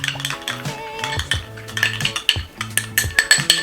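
A spoon scrapes and clinks inside a bowl, stirring a turmeric and aloe vera face mask in a quick, continuous rhythm with close, bright metallic taps.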